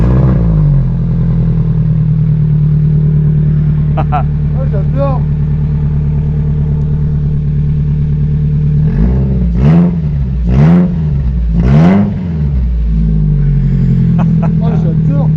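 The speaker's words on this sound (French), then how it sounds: "comme on a démonté l'échappement, comme il n'y avait plus rien après le kata, ben, j'ai eu l'idée de la démarrer" A Peugeot 206 engine idling with the exhaust removed after the catalytic converter, a loud raw rumbling drone with several sharp revs near the end, while a voice speaks briefly over it.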